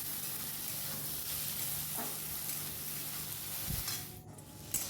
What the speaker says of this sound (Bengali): আর এইখানে এই যে শাপলা ভাজা হচ্ছে